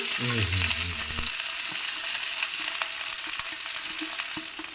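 Onions, green chilies, curry leaves and garlic fry in oil with a steady, loud sizzle and crackle, briefly overlapped at the start by a low droning tone.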